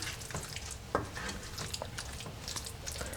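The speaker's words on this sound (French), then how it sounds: "Je laisse cuire sur feu moyen tout en mélangeant régulièrement jusqu'à obtenir une pâte qui est plus épaisse." A spoon stirs a thickening pumpkin mochi batter in a pan over medium heat, giving soft, irregular scraping and gentle bubbling, quiet and close with no talking.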